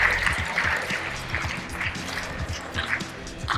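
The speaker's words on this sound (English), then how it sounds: "Let's give her a round of applause." A school poetry recitation audience claps for Dr. Jane Skelton, moderate, fairly dense applause with some low thumps and murmur, heard from within the room.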